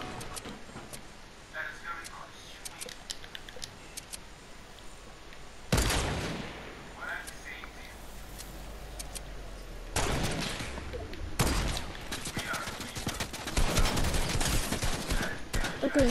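Gunfire in a Fortnite 1v1 match comes in rapid bursts and single cracks, with several loud volleys toward the middle and end, while a player talks excitedly over the action.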